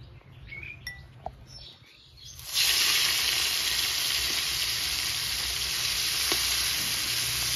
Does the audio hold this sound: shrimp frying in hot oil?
yes